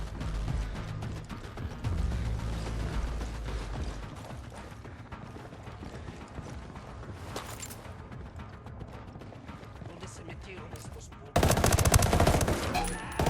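Video game gunfire in SO4: repeated close bursts of automatic weapon fire and single shots, with louder, denser firing near the end and some faint voices underneath.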